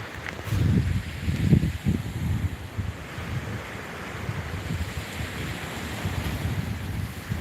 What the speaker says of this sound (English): Live from the beach.